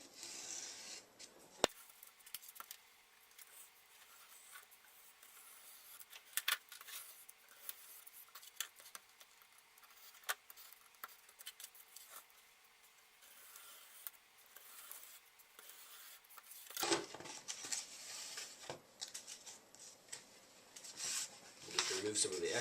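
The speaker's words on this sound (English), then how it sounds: "the knife you're using is as sharp as it can be, and you want to cut using repetitive, shallow strokes" Craft knife drawing repeated shallow strokes through model building wall segments, giving soft, close rasping scrapes at an irregular pace, with a louder burst of scraping near the end.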